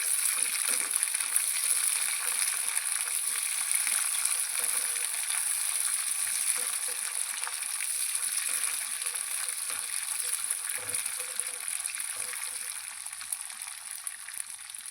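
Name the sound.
green chillies and peanuts frying in a pan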